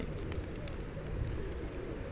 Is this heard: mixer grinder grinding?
no